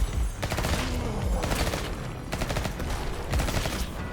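Video game Bloodshed: a bomb exploding, heard as loud, rapid bursts repeating about once a second, much like a volley of gunfire.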